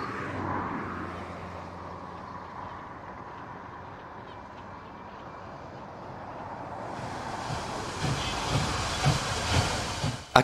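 A South African steam train running along the Cape line, a continuous rumbling roar with hissing steam that grows louder and brighter toward the end, with faint rail clatter.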